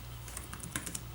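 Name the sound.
typing on Lenovo ThinkPad X1 Yoga Gen 6 laptop keyboard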